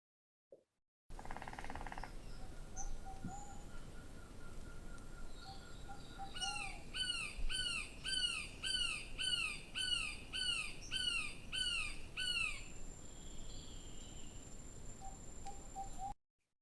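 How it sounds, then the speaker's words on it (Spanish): Woodpecker in the wild, recorded drumming on wood and calling: a rapid series of about ten sharp, evenly spaced knocks or squawks in the middle, with thin high calls before and after over faint background hiss. "es el tamborileo, o sea, cuando el carpintero pica sobre la madera, y lo que se escucha después es el sonido, el canto"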